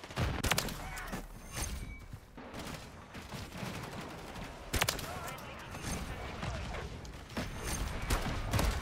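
Shotgun and other gunfire in Modern Warfare 3 multiplayer, sharp loud blasts at irregular intervals amid clattering mechanical weapon handling and game noise, with occasional talk underneath.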